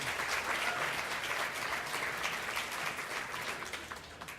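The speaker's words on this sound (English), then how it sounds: "yes, applause, I heard a little bit." Applause from a large gala audience seated at banquet tables, a steady, full wash of clapping that carries through the whole stretch and tapers slightly at the end.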